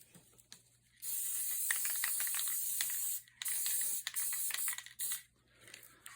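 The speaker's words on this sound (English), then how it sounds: "Okay, I've spray glued it" Spray adhesive hissing onto a cardboard crown in bursts: a steady hiss of about two seconds, then several shorter sprays separated by brief pauses, close and fairly loud, with no talking.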